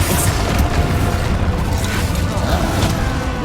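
Confringo spell blasts in Hogwarts Legacy combat, a dense, loud rumbling wash of booming explosions and magical crackle, continuous and heavy throughout, with game mixing busy in the background.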